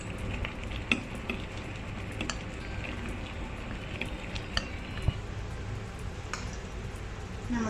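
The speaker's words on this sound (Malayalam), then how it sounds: "നന്നായിട്ടൊന്ന് മെൽറ്റ് ആവണ വരെ ഡബിൾ ബോയിൽ ചെയ്യാം." Chocolate with a little whipping cream is stirred in a double boiler as it melts, giving soft, repeated spoon scrapes and light clinks over a low, constant hiss, close by and without speech.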